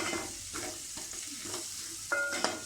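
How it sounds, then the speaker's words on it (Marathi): Potatoes sautéing in oil in a pan for a clam curry give off a steady close sizzle, broken by soft scraping strokes of a stirring spoon. "आपला बटाटा बघा छान तेलामध्ये परतून झाला आहे"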